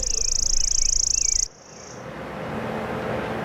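A recorded chipping sparrow delivers a very fast, buzzy trill, its chips so rapid they blur into a continuous insect-like whir. It cuts off abruptly, and a fainter trailing buzz follows over steady hiss.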